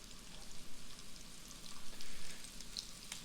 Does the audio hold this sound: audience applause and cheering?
no